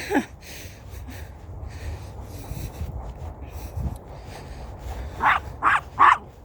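A dog barks three times in quick succession near the end, after a stretch of low background noise.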